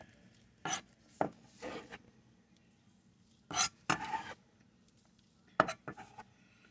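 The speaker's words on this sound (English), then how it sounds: "Chopped tomato." A knife chops tomato on a cutting board in short, uneven bursts of soft knocks and scrapes, close and fairly quiet, separated by pauses.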